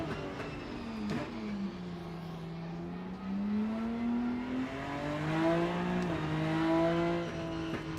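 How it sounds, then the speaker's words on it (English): A BMW race car in Rennsport at the Nürburgring, its engine droning and rising and falling through revs at moderate volume, with a brief pop or shift blip partway through and no voices. "the BMW sounds lovely, and it's got a nice little pop to it as well"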